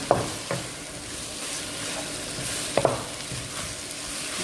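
Constant hissing sizzle of meat frying in a pan for moussaka, broken by a few light scrapes and clicks of stirring; no talking.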